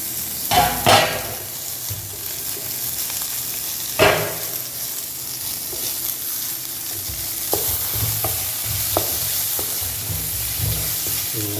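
Tomatoes stirred and fried in a pan for a restaurant-style kadai chicken, a steady sizzle under scraping spoon strokes with a few sharper clinks against the pan, no talking.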